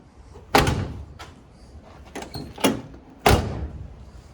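The door of a 1977 Chevrolet El Camino is shut several times, giving three sharp, solid slams with a softer thud between them, close by and with no voices.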